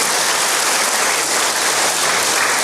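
A church congregation claps during a sermon. The applause is a dense, even wash of many hands, close and loud and unbroken throughout, with no speech over it.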